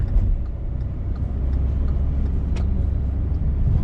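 A Hyundai Venue diesel with a manual gearbox driving on the road, with a steady low engine and road rumble that stays constant throughout and no talk.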